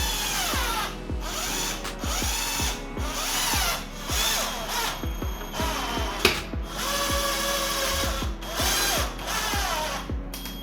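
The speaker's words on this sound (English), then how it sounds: "so I dug another set of pilot holes on both sides" A power drill bores pilot holes into a wooden frame for a homemade acoustic panel, in repeated short whirring bursts that rise and stop with brief pauses between, close up and alone.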